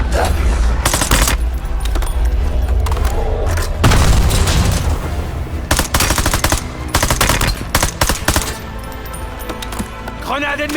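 A grenade explosion and sustained gunfire in a war action film, with heavy booms, rapid machine-gun bursts and dense battle noise running loud throughout, with voices shouting amid the fighting.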